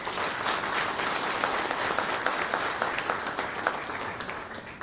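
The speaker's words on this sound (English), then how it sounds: "give the minister a round of applause" Audience applause for a minister at a panel discussion on substandard and falsified medical products, steady dense clapping from a crowd, moderately distant and sustained for several seconds.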